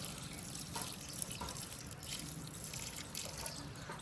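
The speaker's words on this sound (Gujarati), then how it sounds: "તુલસીમાં પાણી પાઈ દીધું આપણે" Soft, steady trickle of water pouring and splashing onto a tulsi plant, fairly quiet and continuous throughout.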